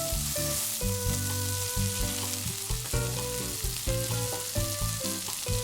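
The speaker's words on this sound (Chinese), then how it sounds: "洋葱丝翻炒至透明" Onion shreds stir-fried in a wok alongside fresh shiitake mushrooms and shredded carrot, with a steady loud sizzle and repeated scraping of the spatula against the pan throughout, no talking.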